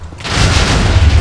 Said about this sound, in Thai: ระเบิดอะไรแย่ๆวะระเบิดตรงจุดเกิดผมแล้วมั้งเนี่ย